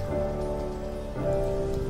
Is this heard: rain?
yes